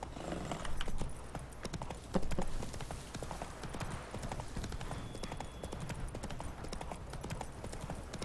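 Geralt's horse Roach from The Witcher 3 gallops in a rapid, continuous clip-clop of hooves, with a faint whinny in places, played fairly quietly with no talking over it.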